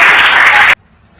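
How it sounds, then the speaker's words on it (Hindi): Loud, close applause at a Republic Day poetry gathering, a short dense burst that cuts off abruptly into near silence. "आप तालियां बजाकर अभिनंदन करें"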